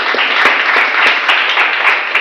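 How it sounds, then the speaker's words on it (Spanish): A Spanish-speaking church congregation gives loud, close applause. The clapping is dense and steady, with distinct sharp claps punctuating it throughout. "Damos un fuerte aplauso."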